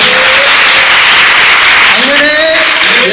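An audience at a spiritual gathering claps together, a loud dense patter of hands that runs the full length, with voices calling out and brief tonal sounds mixed in over the top.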